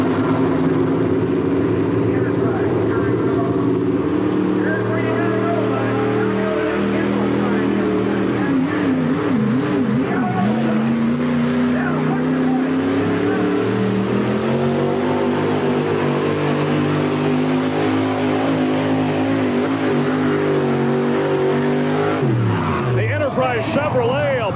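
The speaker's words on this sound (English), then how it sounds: "Chevrolet, a bucking and a bouncing, but a good effort for the man out of the Buckeye State, Jerry Carlton, and the Enterprise." Chevrolet four-wheel drive pulling truck at a 1991 NTPA truck pull in Rock Springs, Wyoming, engine roaring loud and continuous with wavering pitch as it bucks and bounces down the track, under an announcer's commentary.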